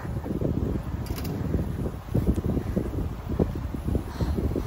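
Strong wind gusts through the Sierra Madre mountains near Pililia, Rizal, buffeting a nearby microphone with a rough, low, uneven rumble that surges in bursts.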